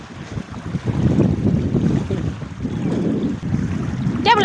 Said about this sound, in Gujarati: એ તો પવન આવતો એટલે હલેસા લાગતા આવે પાણીને